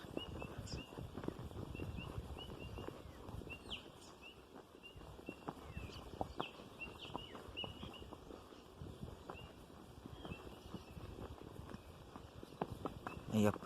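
A tame horse walks to a new pasture, its hooves clip-clopping in a faint, steady outdoor rhythm with soft background noise throughout.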